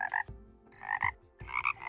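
Three loud, close frog croaks ring out in Terraria, each a buzzy burst separated by short gaps, with no voices.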